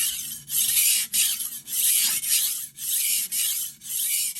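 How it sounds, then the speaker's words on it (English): A knife blade is drawn across a sharpening stone in steady, rhythmic strokes, about eight close raspy scrapes each separated by a brief pause, with no talking. "all you really should be doing, is laying your knife flat on the stone"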